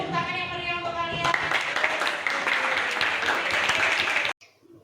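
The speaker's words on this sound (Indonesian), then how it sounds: "boleh tepuk tangan yang meriah untuk kalian" A school class applauds together, with broadband clapping running steadily under a teacher's voice before cutting off abruptly near the end.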